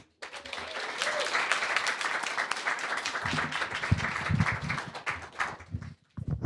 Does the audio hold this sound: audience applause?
yes